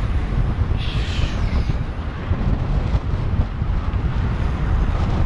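Steady roaring wind buffeting the microphone during an e-bike ride along the Toronto waterfront, loud and constant with low rumbling gusts and no talking.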